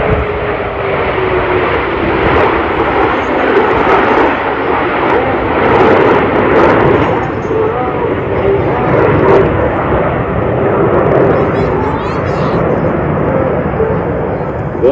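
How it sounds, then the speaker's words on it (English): Jet formation flying the inverted wedge bottom side pass at the AERO Gatineau-Ottawa Airshow, a continuous loud jet engine roar rising and falling across the pass, with an announcer talking throughout. "get your cameras ready as they come in for the inverted wedge bottom side pass"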